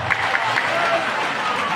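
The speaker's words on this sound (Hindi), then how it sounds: "जोरदार ताली बजाओ" A large crowd at a mass wedding gathering at Bageshwar Dham claps loudly and continuously, a dense, even patter of many hands.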